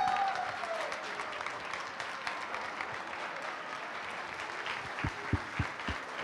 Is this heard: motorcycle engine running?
no